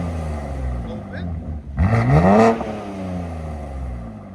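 A 2023 BMW M3 Competition with its exhaust valves open gives one sharp rev, rising fast from a low idle burble to a loud snarl and dropping back, heard close over a steady idle.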